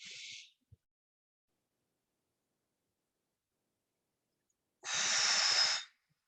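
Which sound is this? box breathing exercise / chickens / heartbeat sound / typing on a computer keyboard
box breathing exercise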